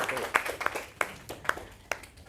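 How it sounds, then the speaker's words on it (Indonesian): A few people in a lecture room give scattered, sparse claps, about seven distinct hand claps spread unevenly over a couple of seconds, faint against a quiet room. "Oke, tepuk tangan buat Inggris."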